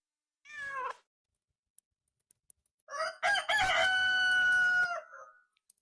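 A cartoonish cat meow sounds first, followed after a pause by a loud, long rooster crow, both clean sound effects standing alone against silence.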